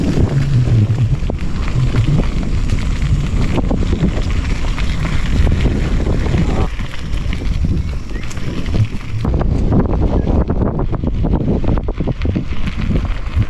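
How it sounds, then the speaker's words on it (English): Steady gusty wind roars across the microphone throughout in a monsoon rainforest near Darwin, Australia, with buffeting bursts and a faint voice underneath. "Suddenly it becomes very cloudy and windy now guys,"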